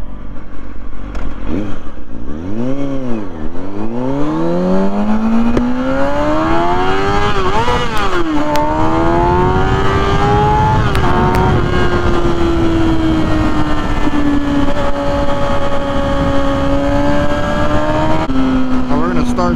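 A 2006 Kawasaki Ninja ZX-6R 636 motorcycle engine revs hard in first gear, pitch sweeping up and down in repeated blips before holding a loud sustained high-rev drone under wind rush, with a voice speaking over it.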